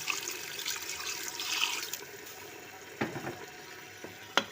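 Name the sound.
water poured into pan of spiced potatoes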